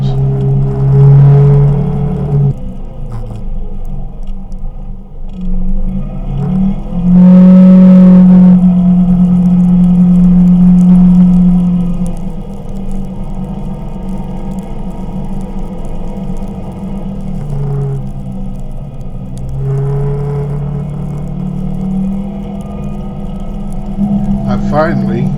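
A side-by-side UTV drives through a snowstorm, its engine rumbling steadily and swelling in several louder revs, with a voice talking over the motor much of the time.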